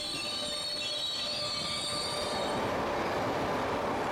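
A Sicilian train rolls along the rails with a steady rumbling roar and a high, drawn-out wheel squeal, heard close and continuous throughout, with no voices.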